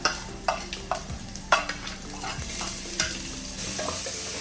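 Ginger-garlic paste frying in hot oil with popping mustard and cumin seeds, close loud sizzling under repeated spoon-on-pan stirring scrapes and taps, no voices.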